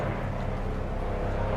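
A Coast Guard aircraft drones past overhead, a continuous low engine rumble held at steady loudness through the short moment, with no voices.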